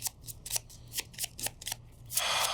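A deck of cards for the Gloomhaven: Jaws of the Lion board game is shuffled up close, with a run of crisp riffling bursts in quick rhythm ending in a longer cascading riffle, no voices over it.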